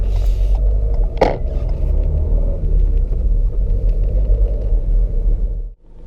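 A manual car moving off from the clutch biting point, with a heavy steady engine and road rumble close by, a brief bright knock early on, and the rumble cutting off sharply near the end.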